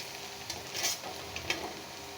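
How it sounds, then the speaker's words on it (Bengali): Chopped garlic stirred in melted butter in a wok makes a soft, quiet sizzle with a few light spatula scrapes, faint and brief. "রসুন কুচিটা দিয়ে একটু নেড়ে নেব"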